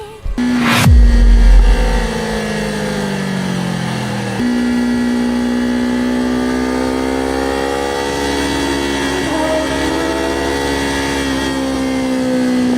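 A motorcycle engine revs hard as the rider speeds along a winding road, then holds a loud, steady drone with slowly shifting pitch as the bike leans through the tightening corner, with no voices.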